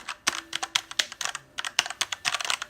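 Quick, fairly close typing on an affordable RGB LED mechanical keyboard with brown switches, an irregular patter of crisp keystroke clicks heard alone.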